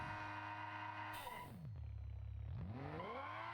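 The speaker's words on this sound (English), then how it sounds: "So, if your engine's powerful enough, you can do a burnout." Simulated car in BeamNG Drive revving hard into a burnout, engine pitch dropping then climbing again with a steady roaring drone and brief clatter, loud and continuous with no talking.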